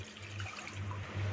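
Water pours steadily into a cooking pot holding about 300 grams of boneless chicken with a cinnamon piece, two cloves and a black cardamom, a close, continuous splashing rush.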